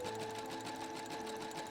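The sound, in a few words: sewing machine overlocking fabric edges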